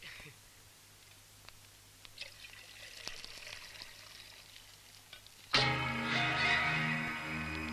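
Quiet clinks and small handling sounds, then a sudden continuous pour of tea starts and runs steadily to the end, close by.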